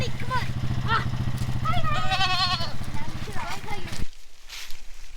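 Goats bleat several times in wavering cries while being moved on a farm, over a loud idling engine that cuts off near the end, with people talking nearby.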